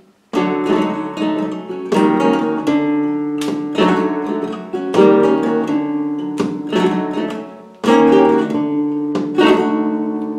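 Strummed acoustic guitar chords ring out several times, each struck sharply and left to decay before the next, with a bright flamenco-style attack.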